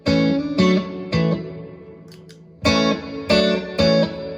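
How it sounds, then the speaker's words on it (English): Electric guitar played through a Nux Atlantic delay and reverb pedal on the reverb setting, loud chords struck in a halting rhythm, each ringing out with a reverberant tail and a brief quiet gap midway. "The Atlantic delay and reverb. We'll take the reverb first."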